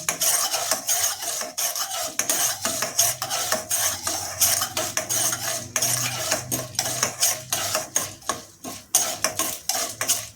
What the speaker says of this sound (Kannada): ಇದರ ಜೊತೆಗೇನೆ ಗೋಡಂಬಿಯನ್ನು ಸೇರಿಸಿ ಅದನ್ನು ಸಹ ಕೆಂಪುಗಾಗೋವರೆಗೂ ಹುರಿತಾ ಇದ್ದೀನಿ.